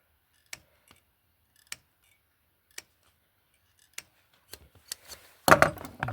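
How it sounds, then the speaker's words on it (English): Scissors cutting a gasket for a Farmall Model A drive cog oil sump, first as sparse, sharp single snips about a second apart, then a quicker run of cuts ending in a louder rustling burst. "So now we can get the scissors in there and start cutting."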